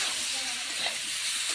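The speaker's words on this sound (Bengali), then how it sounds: "আমার একটু মশলাটা আমি ভালোভাবে এতে কষিয়ে নিচ্ছি" Spice masala with chili powder frying in a pan gives a steady, close hiss and sizzle that holds for the whole moment, with faint stirring clatter underneath and no talk.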